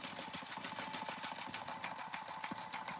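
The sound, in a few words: embroidery machine stitching satin stitch on patch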